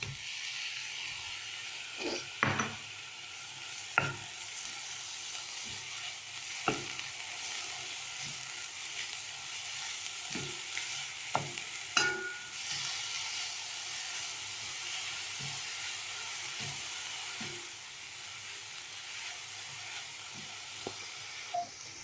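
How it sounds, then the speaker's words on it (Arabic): Grated carrot sautés with onion and garlic in a pan, a soft continuous sizzle broken by sharp spoon clicks and scrapes every second or two. "بعد ما تشحرت لينا تشحر لينا خيزو مع البصله والثومه"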